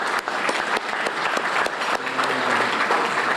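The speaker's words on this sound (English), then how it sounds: "Another round of applause for the choir." An audience at a charity kick-off luncheon applauds a choir, a dense steady round of clapping that continues throughout, with a faint sustained tone under the later part.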